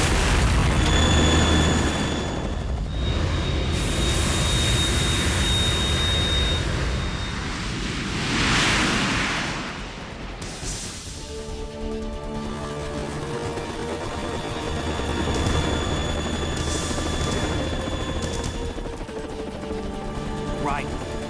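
In Metal Gear Solid 2, a Harrier jet's engine roars and whooshes loudly and continuously, swelling and fading with rumbling blasts, while game dialogue voices talk over it.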